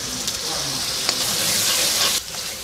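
Garlic, ginger and mustard paste fries with browned onions in oil, a loud steady sizzle with stirring scrapes that cuts off sharply near the end.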